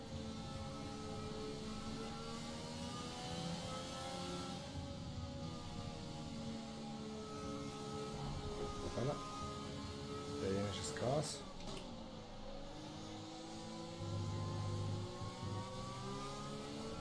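An F1 car's engine in the F1 2020 video game at Monza revs and whines steadily, with pitch rising and falling through gear changes and a few sharper bursts, under continuous talk.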